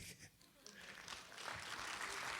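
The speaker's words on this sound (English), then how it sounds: "Well, let's give a big round of applause, y'all, to Fred Craig." An audience at an evening Chautauqua show breaks into applause that swells from scattered claps to a full, steady ovation, with voices audible beneath it.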